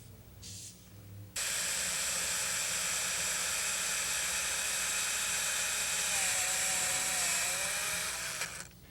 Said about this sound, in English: I'm going to go ahead and drill these holes up